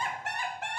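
A brief rooster call, a single crow broken into three connected bursts, sounds clear and fairly close with no talk over it.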